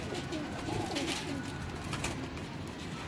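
Wild pigeons on a rooftop loft coo in low, rolling, repeated phrases close by, over a steady background hiss with a few brief higher chirps and rustles.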